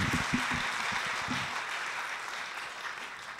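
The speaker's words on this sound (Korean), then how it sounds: "여러분 큰 박수로 함께 해주시면 감사하겠습니다" Audience applause at a gospel praise concert, a broad steady wash of clapping that carries on evenly throughout, with some low murmur at the start.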